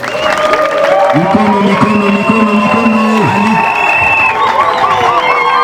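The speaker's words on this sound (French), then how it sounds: "Je vous demande d'applaudir le président de la République." A crowd cheers and applauds at the inauguration of the Mulongwe and Kalimabenge bridges in Uvira, a sustained loud roar with whistles and shouting voices mixed in throughout.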